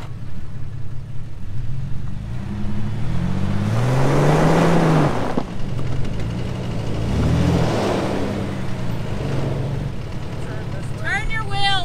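An off-road truck stuck near Lake Mead revs its engine in two long rising and falling surges while it is pulled out by a rope, loud and close over a continuous idle, with a brief voice at the very end.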